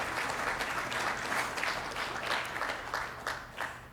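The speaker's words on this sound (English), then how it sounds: "Let's give them one more round of applause for the outstanding discussion they had." Conference audience at an innovation summit applauding a panel discussion, with sustained even clapping from many hands, moderately distant and steady throughout.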